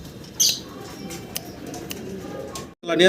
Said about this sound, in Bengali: কবুতরগুলো একটু সময় নিয়ে দেখাচ্ছি যাতে কোয়ালিটিটা বুঝতে পারেন